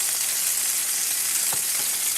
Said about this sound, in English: I brown one side, turn it over, brown the other side.